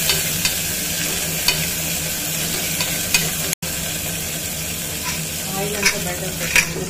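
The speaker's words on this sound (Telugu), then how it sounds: "టమాటా వేసి ఫ్రై చేస్తున్నాం" Tomatoes fry in hot oil for a black-eyed bean and potato sambar, giving a loud, continuous sizzle broken by occasional scraping stirs and light clinks.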